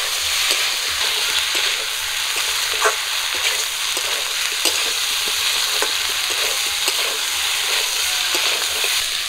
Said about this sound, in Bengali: মশলাটা দিয়ে আবারও কিছুক্ষণ একটু ভাজা করে নেব।